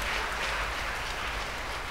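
A church congregation at Bora-dong Catholic church claps together in a steady, dense burst of applause that fills the room evenly and carries on without pause.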